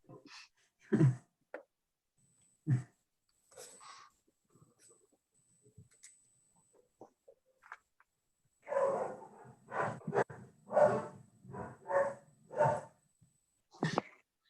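A dog barks from behind a closed door, its muffled barks and snorts coming in scattered bursts and then a rapid cluster, moderately distant with no speech over it.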